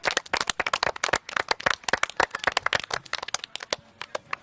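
A small group, likely players in a football training session, clapping for themselves after completing ten passes in a row: dense, sharp hand claps, close and fairly loud, fast and uneven for about four seconds with no talking.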